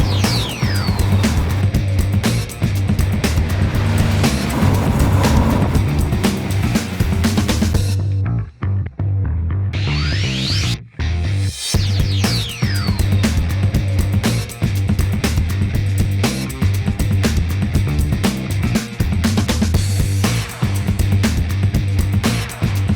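BMW R1250GS and R1200GS motorcycles riding on the road, engines roaring loud and close with strong wind buffeting, briefly dropping out before the ride noise resumes.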